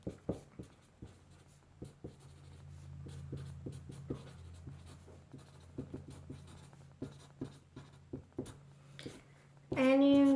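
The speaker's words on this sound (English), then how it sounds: "you write that down on there" A marker squeaks and taps in short strokes across small foil chocolate coin wrappers, close and clear, with a steady low hum underneath and a brief louder noise at the end.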